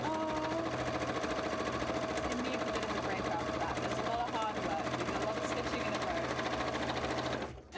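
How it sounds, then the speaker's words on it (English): A sewing machine runs continuously at a fast, even pace, stitching tight seams in fabric for a cosplay contest costume, with a steady mechanical rattle that stops abruptly at the end; a voice talks over it. "you've worked very hard, sewing machine"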